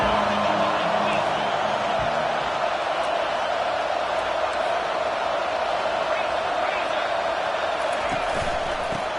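Steady roar of a large football stadium crowd in Miami, loud and sustained throughout with a broad wash of cheering and noise, no distinct individual voices standing out.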